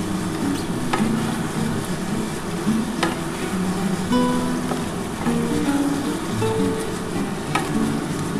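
Fish heads frying and being stirred in a pan for a Bengali curry, giving a steady close sizzle with scraping stir sounds and occasional clinks, no voices.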